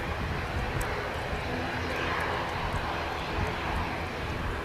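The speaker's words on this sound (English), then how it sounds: "I head back for this ATR 72. The Logan Air colours, this one." A Loganair ATR 72 turboprop airliner at Manchester Airport gives a steady, broad engine roar throughout, fairly distant and even in level with no speech.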